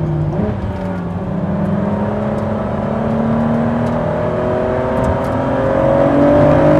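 A Ford GT engine, heard from inside the car on track at Road America, revs hard toward the rev limiter, its loud rising drone climbing steadily over several seconds.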